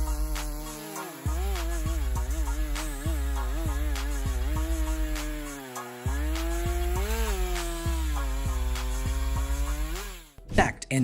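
A chainsaw engine revs repeatedly in rising and falling pulses, a strong buzzing whine cycling through a dozen or so bursts while cutting wood, loud and close, ending in a brief scrape of noise.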